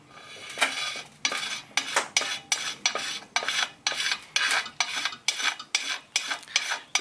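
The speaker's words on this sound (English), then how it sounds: "So this is a fresh carbide blade, and you scrape towards you." A fresh tapered carbide scraper blade pulled toward the user scrapes an old gasket off a Honda minibike engine surface: a steady series of about ten sharp, raspy strokes, close and fairly loud, with brief pauses between them and no talking.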